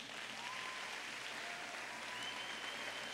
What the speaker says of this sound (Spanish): les pido que le demos un fuerte aplauso